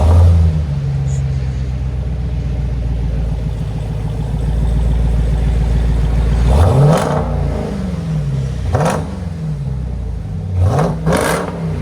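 A Jeep Trackhawk's supercharged 6.2L V8 settles into a deep, steady exhaust idle, then gets several sharp throttle blips that bark and fall away, loud and close.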